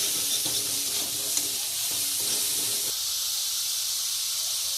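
Cauliflower is stirred and fried in a pan, giving a steady close hissing sizzle with soft utensil scrapes and knocks during the first few seconds before settling into an even fry.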